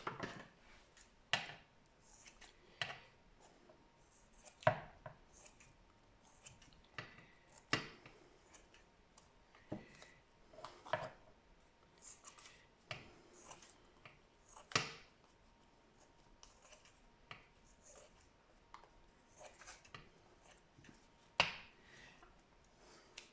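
Sharp scissor snips trimming excess material from a handmade Christmas table decoration, a dozen or so crisp cuts spaced irregularly, close and quiet with no voices.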